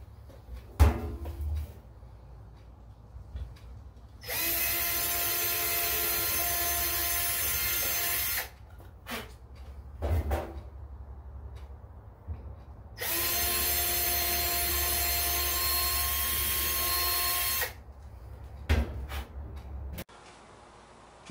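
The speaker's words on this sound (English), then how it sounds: "Now the pilot holes are drilled" A power drill bores pilot holes into a flagpole in two long steady runs of several seconds each, with handling clunks and knocks between them and no talk.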